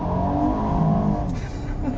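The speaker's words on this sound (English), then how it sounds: "Had a nice little wheel spin launch there." A 2018 Hyundai Santa Fe Ultimate LWB SUV with a 3.3 liter V6 launches with brief wheel spin, its engine note rising steadily and loudly over two seconds.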